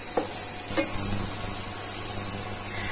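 Square-chopped capsicum is lightly fried in a kadhai for kadhai paneer, giving a steady close sizzle with a couple of brief stirring scrapes near the start.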